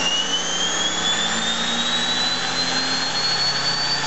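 A small turbine engine with its generator load removed whines steadily at high speed, its pitch slowly rising as it revs up, loud and continuous with no voices.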